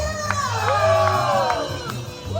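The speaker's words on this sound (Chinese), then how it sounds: "鼓掌的尖叫声！" A crowd cheers and screams with excited whoops and shouts at a live performance of a sung cover song, with held vocal-like tones running through the steady, loud din.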